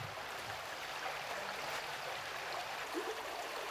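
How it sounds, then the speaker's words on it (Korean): Clear stream flowing at the entrance to Slovak Paradise near Spisska Nova Ves in Slovakia, a steady, broad rush of water heard close and continuous with no talk. "슬로바키아 라이의 초입에 들어서자마자 맑은 시냇물이 나를 반긴다."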